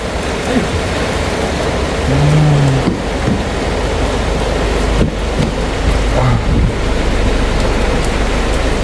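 Heavy rain pouring down outdoors at night, a dense, loud, continuous wash of noise with wind buffeting the microphone and brief faint sounds within it.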